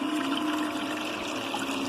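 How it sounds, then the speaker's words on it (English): Water runs slowly through a Goldcube gold sluice set up as a three-stack for final cleanup, giving a steady, even rushing and trickling wash with no pauses and no voices. "I got the water flow very, very slow."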